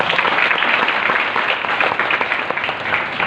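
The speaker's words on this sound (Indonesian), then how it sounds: "Tepuk tangan dulu dong." An audience gives a loud, continuous round of applause, thick overlapping claps sustained evenly from start to finish.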